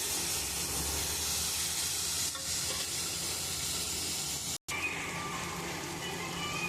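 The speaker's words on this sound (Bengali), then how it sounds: "আলুগুলো আমি একটু লাল লাল করে ভেজে নেব" Potatoes fry in a pan after onions have been browned, giving a steady, fairly loud broadband sizzle and hiss that runs almost without a break, briefly cut off near the end.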